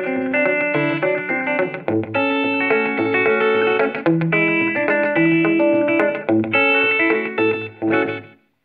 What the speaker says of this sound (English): we're looking at a Den Electro Real Echo Unit. Real, like tape reel. It's a digital echo